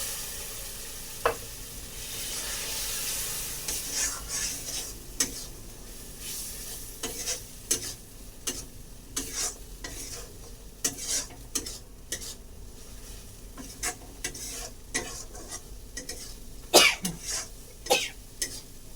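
Prawns sizzle softly in a pan after mustard water goes in, with intermittent stirring scrapes and clinks, a few sharp knocks and a cough-like sound, moderately close and fairly quiet.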